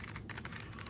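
Quick, rapid keystrokes on a clicky mechanical keyboard, crisp close clicks in a steady run lasting under a second.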